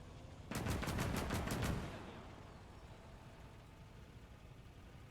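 Autocannon on a vehicle in the World War II strategy game Gates of Hell: Ostfront firing a rapid burst of about seven loud rounds, then trailing off into faint background noise.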